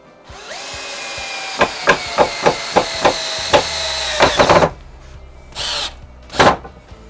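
A power drill bores pilot holes in oak for a Japanese-style stave bench, with a steady whirring run broken by a series of sharp regular knocks, then a couple of short separate bursts near the end.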